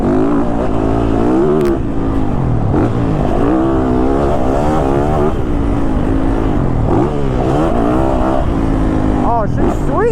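Engine of a 2022 Yamaha YZ450FX off-road motorcycle being ridden on a dirt track, a steady loud drone with rising and falling revs throughout, close to the mic, with a rider talking over it.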